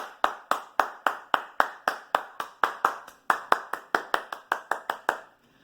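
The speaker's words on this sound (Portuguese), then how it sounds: "Todos aplaudamos os nossos vereadores de Itara" Steady, evenly spaced clapping from a single pair of hands, about two dozen sharp claps in a regular rhythm, close and clear, with no voices.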